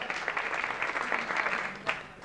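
A small television show studio audience claps in a steady, brisk patter, with a few sharper individual claps standing out.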